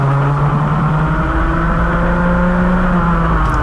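A Club100 kart engine drones steadily on track at GYG, a loud, close, continuous buzzing hum that holds nearly level pitch with slight rises, no voices over it.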